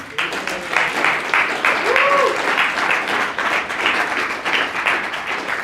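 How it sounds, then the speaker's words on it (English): A room of seminar attendees gives a steady round of applause for a speaker, dense clapping sustained throughout, with a brief voice surfacing faintly in the middle. "round of applause for Matt"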